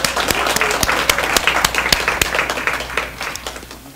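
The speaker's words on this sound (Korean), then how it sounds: "다시 한번 여러분들 큰 박수 부탁드리겠습니다" Audience applause at a Seoul NPO forum, steady dense clapping throughout with sharp individual claps standing out near the listener, no talk over it.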